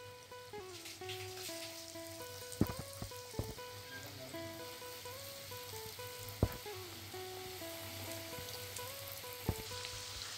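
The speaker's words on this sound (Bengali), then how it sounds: "এবার তেলটা গরম হলেই ভেজে নেব। এবার একটা একটা করে তেলে আমি দিয়ে দেব।" Egg chops deep-fry in hot rice bran oil with a quiet, steady sizzle and a few faint pops and taps. Soft tonal sounds hum in the background, and no one speaks.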